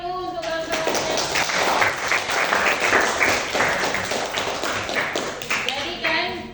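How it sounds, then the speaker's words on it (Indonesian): Classroom applause as students clap for their classmates, a dense burst of clapping that holds steady for several seconds with chatter underneath. "Kasih tepuk tangan dulu untuk kawan-kawannya"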